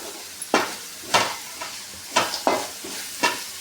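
Curry leaves and spices frying for chitranna give a close, steady sizzle, punctuated by about half a dozen sharp scraping stirs of a spoon in the pan at irregular intervals.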